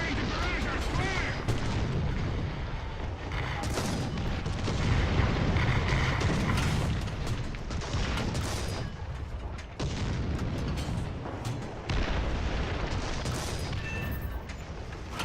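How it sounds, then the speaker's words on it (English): An artillery barrage in the War Thunder tank game, a dense continuous rumble of booms and blasts with sharp impacts throughout, layered under game voice lines and chatter. "Our sector is under artillery barrage!"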